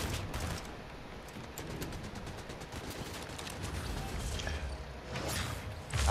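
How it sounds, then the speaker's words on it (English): Rapid bursts of video-game gunfire pour steadily into a building, sustained and dense across the whole stretch with a few sharper cracks near the end. "I'm trying to shoot the building out"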